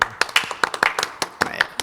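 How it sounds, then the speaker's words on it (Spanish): Short bursts of hand clapping between lively casual talk, the claps sharp and uneven rather than a full crowd applause, several quick slaps close by over under two seconds. "Un buen aplauso, de hecho"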